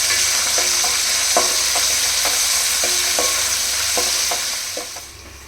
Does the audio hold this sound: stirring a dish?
yes